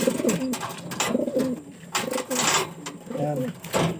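A racing pigeon coos up close in repeated soft, throaty bursts with a steady rhythm, while a person talks over it.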